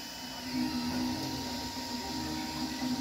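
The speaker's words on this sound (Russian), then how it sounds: "драйвера, как вы можете слышать, совсем не тихие" A steady electronic whine from the stepper drivers of an Artillery Sidewinder X1 3D printer, with constant tonal hums throughout, close and moderately loud, with no talking.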